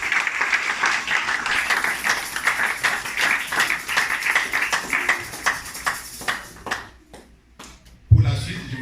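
Church congregation applauding and acclaiming loudly during a worship service, a dense sustained wash of clapping and voices that thins into scattered separate claps toward the end before a final loud burst.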